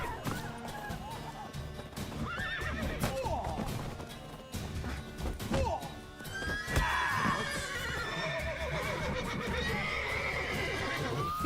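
Horses in a video game neigh in loud, shrill whinnies amid clattering hooves, crashes and thuds, with people's voices mixed into the chaotic commotion throughout.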